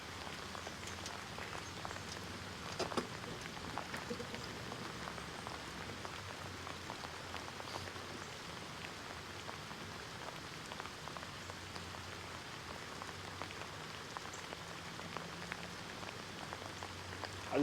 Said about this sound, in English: I said, bring your rain gear, John, because it's still raining.